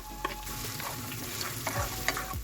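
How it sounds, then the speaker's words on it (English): Onions, ginger and garlic sizzle in hot avocado oil, a steady close frying hiss with light stirring clicks, moderately quiet and uninterrupted. "And to that, I'm just going to add my onions, ginger, and garlic."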